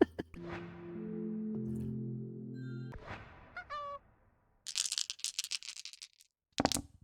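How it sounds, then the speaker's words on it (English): Dice rattle and tumble in short bursts during a sound guessing game, with a steady tonal hum earlier and scattered clicks before a final sharp clatter. "Rolling dice? A dice roll, okay."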